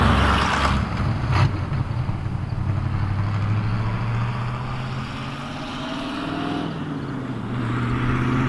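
A Camaro IROC-Z with a carbureted engine and four-wheel disc brakes runs an autocross slalom in second gear, engine droning loud inside the cabin and rising and falling in pitch through the tight turns, no talking.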